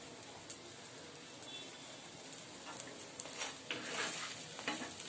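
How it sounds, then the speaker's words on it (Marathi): Pav bhaji simmering and bubbling in a pan, with a soft continuous sizzle and scattered small pops and crackles. It stays quiet and steady, slightly louder toward the end, and no one talks. "त्या साईडला आपल्या पावभाजीला उकळी देखील येत आहे."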